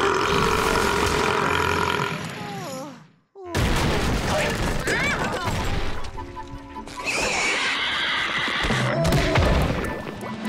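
A cartoon character lets out long, loud belches after chugging fizz bomb burp fuel, with crashing effects, music and other voices around them and a brief silent gap near the three-second mark.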